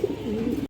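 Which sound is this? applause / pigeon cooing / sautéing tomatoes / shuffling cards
pigeon cooing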